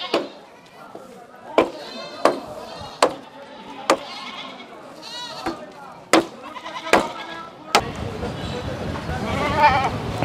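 Two goats bleat repeatedly, sharp loud cries coming every second or so over outdoor background noise, with a busier, noisier stretch toward the end.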